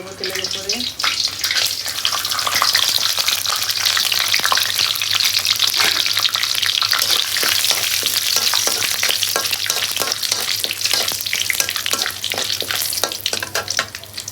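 Meat frying in hot oil with whole garam masala spices (cardamom, cinnamon, black pepper), giving a loud, steady sizzle with stirring clatter throughout and no talk.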